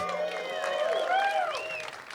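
A comedy club crowd at a live stand-up show breaks into scattered applause, mixed with cheers and whoops that rise and fall over a few seconds.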